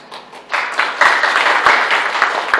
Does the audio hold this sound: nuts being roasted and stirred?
no